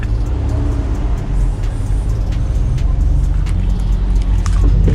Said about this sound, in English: once you come off the clutch and press the gas, the automatic brake will disengage